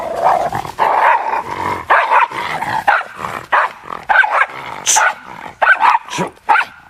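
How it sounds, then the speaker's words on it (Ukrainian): A working military pyrotechnics dog barks, yips and growls in rapid repeated bursts at another dog, loud and close, over roughly seven seconds. "Це патрон реагує на іншу собаку."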